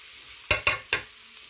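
Carrots being stirred in a hot frying pan for ginisang odong (noodles with sardines), three quick sharp scraping stirs with a sizzle between them, close and clear with no talk.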